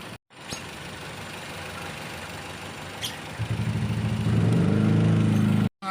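Car engine idling after an ignition coil misfire repair, a steady close rumble that thickens into a louder, throbbing pulse toward the end, with no voices.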